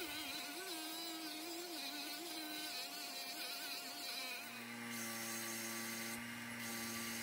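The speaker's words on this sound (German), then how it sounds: "Mit einem Dremel und einer dünnen Scheibe wird erst der Außenbereich der Vertiefung markiert und dann die Kerbe selbst hineingeschliffen." A Dremel rotary tool fitted with a thin cutting disc grinds a notch into olive wood for a table lamp, a steady high whine that shifts pitch as the disc bites, continuous and close with no talking.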